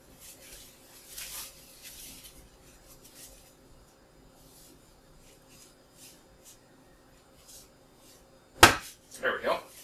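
A metal screwdriver padded with a small cloth prying at a pressure cooker lid seal: faint rubbing and scraping, then a sharp metallic pop and a couple of short clattery follow-up knocks near the end.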